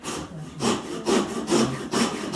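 Hand saw cutting across wood for a 5/8 inch dado while building a saw bench, five or six steady rasping back-and-forth strokes, close and clear with no talk.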